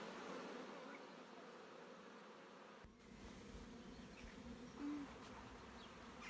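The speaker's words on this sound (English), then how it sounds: "You see the bees there just sticking their bum out in the air. And they're fanning." Honeybees fanning at the entrance of a hive give a steady, dense, close-up buzzing drone that continues throughout, with no talking.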